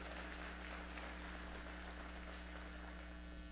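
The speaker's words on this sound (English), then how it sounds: "give yourselves a round of applause" Steady applause from a seated crowd at a football press luncheon, dense clapping that holds at an even level for the whole stretch, with a low electrical hum underneath.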